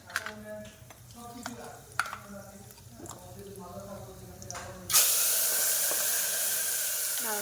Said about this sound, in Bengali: এখন দেওয়া হলো হচ্ছে ফোড়ন, জিরা, শুকনো লঙ্কা, তারপরে গোটা গরম মশলা সব কিছু দেওয়া হলো।